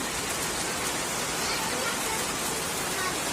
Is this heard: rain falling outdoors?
yes